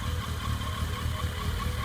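A Yamaha XJ650 Turbo motorcycle engine runs at a steady idle, giving a close, continuous low rumble with an even pulsing throb.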